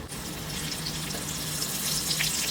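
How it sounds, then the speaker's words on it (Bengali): Rose water and kewra water are poured for a homemade chicken biryani, giving a steady, close watery trickle that lasts throughout, with no talking. "আর এদিকে দেব গোলাপ জল সামান্য। আর এখানে এই কেওড়ার জল, এই দিয়ে একটু মিক্সড করে রেখে দেব।"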